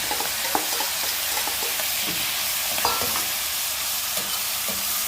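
Meat searing in hot country ghee gives a steady, close sizzle and frying hiss, with scattered small pops and stirring scrapes throughout.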